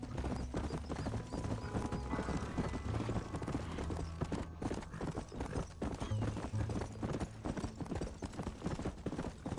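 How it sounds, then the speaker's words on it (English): Horse hooves clip-clop in a steady galloping rhythm in the video game Red Dead Redemption, with occasional whinnies over the continuous hoofbeats and faint talk mixed in. "My horse can't keep up."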